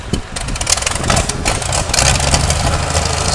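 A loud engine revs close by with the clutch slipping, its rough mechanical roar rising and surging steadily throughout without pause, snapping, snarling and backfiring.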